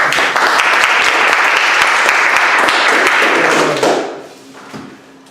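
An audience at a Hallmark Speakers club meeting gives a sustained round of applause, dense steady clapping for about four seconds that then fades into quieter room sound.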